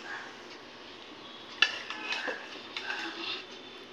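A spoon scrapes and taps against a metal plate as rice is served in a Bengali home kitchen. There is one sharp clink, then several softer scrapes and knocks, close by and fairly faint.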